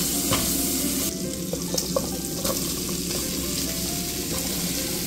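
Pork sizzles steadily in a pan with ginger, onion and garlic, a continuous close frying hiss with occasional stirring clicks and scrapes throughout.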